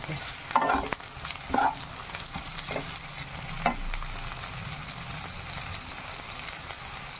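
Slit green chillies fry with onions in a pan, a close, steady sizzle broken by a few sharp spatula scrapes and stirring knocks near the start.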